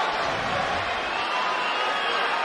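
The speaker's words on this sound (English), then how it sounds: "I have never heard a crowd like this before." A packed arena crowd roars at a UFC event as the fighters are introduced, a dense, sustained wall of cheering and shouting that fills the space, with a commentator's voice faintly mixed in.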